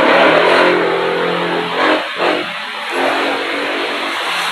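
A fuel-injected Suzuki Raider J115 motorcycle, reported as smoky and hard to start, is revved hard, its engine roaring loudly up close with brief dips and surges in the throttle.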